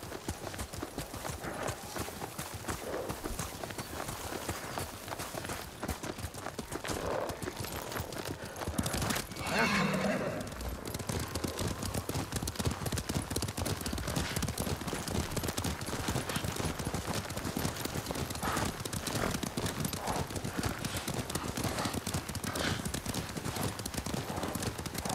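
Horses in the samurai video game Ghost of Tsushima, hooves clip-clopping steadily at a gallop with whinnies and neighs, set against a dense, loud game soundscape that continues throughout with faint voices.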